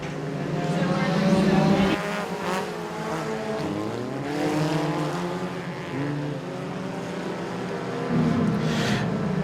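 Compact race cars roar off at the green flag at Moler Raceway, several engines droning and rising in pitch together as they accelerate, loud and close, with shifting overlapping tones and faint crowd or announcer sound beneath.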